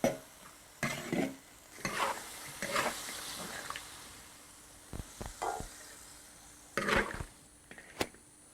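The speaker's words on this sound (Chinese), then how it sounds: "现在把剩下的子酱全部倒进去啊" Duck with young ginger stir-fried in a wok, irregular bursts of scraping and clattering spatula strokes with faint sizzling between them, fairly quiet and without speech.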